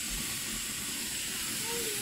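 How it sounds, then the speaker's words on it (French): Wild hedgehog mushrooms hitting hot oil in a pan give a steady, broad sizzling hiss that holds evenly for about two seconds, close and fairly loud, with no talking over it. "quand notre huile est chaude, puis la poêlonne est chaude, on va verser les petits champignons dedans."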